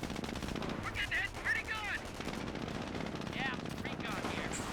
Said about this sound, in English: Receiving a bit of a volley there.